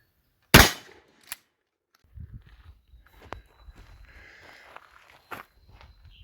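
A 1 ounce 12 gauge slug strikes a steel target with one sharp, loud metallic crack, followed by a fainter second impact and scattered small clatter and rustling outdoors.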